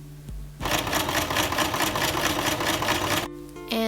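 A sewing machine runs a straight stitch along a double rolled hem on a skirt, a brief start followed by a steady, loud, rapid whirring run that stops abruptly near the end.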